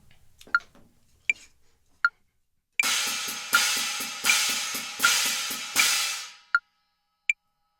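Drums play two quarter notes, each split into three even strokes in a triplet feel, loud and close. A metronome click ticks before and after, with no talk.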